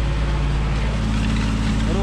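A John Deere 1950 tractor pulling a disc harrow across a field runs with a steady, low, throbbing diesel drone, close and continuous, with someone talking over it.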